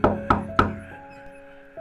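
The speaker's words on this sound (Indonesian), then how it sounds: "tiba-tiba terdengar suara pintu diketuk" Three sharp knocks on a door in quick succession, evenly spaced about a third of a second apart, followed by a quiet lingering tone with no other sound.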